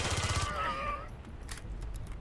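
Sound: gunfire in the video game Aliens: Colonial Marines

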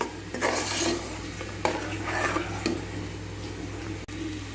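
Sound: ground masala paste frying in a pan

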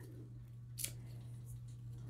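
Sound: large sharp scissors with 11-inch blades cutting

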